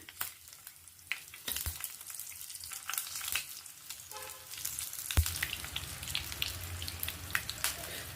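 Eggplant frying in oil with mustard seeds, cumin and curry leaves, giving a close, steady sizzle with crackles, louder bursts as pieces drop in, and occasional stirring clinks.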